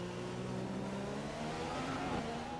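McLaren Honda Formula 1 car in the racing game F1 2015, its engine note rising in pitch steadily as it accelerates, loud and continuous with no talk over it.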